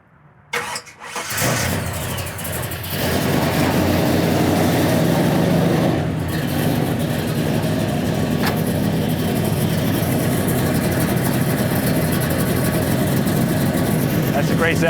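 A 1969 Chevelle SS 396, boosted to 640 hp, cranks and fires up near the microphone, then settles into a loud, steady, rumbling idle that continues to the end.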